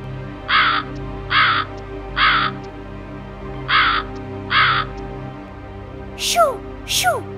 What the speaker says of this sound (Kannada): ಆ ಕಾಗೆ ನೋಡೋದಕ್ಕೂ ಚೂರು ಚೆನ್ನಾಗಿಲ್ಲ, ಅದ್ರ ಧ್ವನಿ ಕೂಡ ಕರ್ಕಶವಾಗಿದೆ